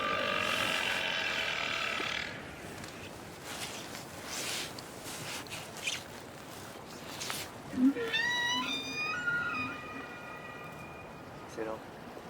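Whale calls picked up underwater by a hydrophone in a calm Antarctic sea, with rising and falling tonal whistles and squeals, some stacked and harmonic, over a steady hiss of water noise.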